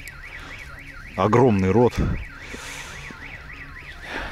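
A car alarm cycles through its repeating rising-and-falling electronic wail in the distance, briefly interrupted by a loud spoken phrase up close.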